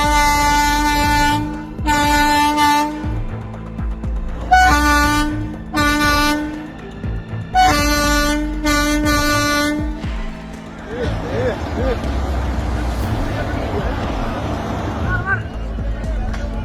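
A train sounds its horn in a series of long blasts separated by pauses, loud and close, followed by the rumble and clatter of the train passing, with voices talking over it.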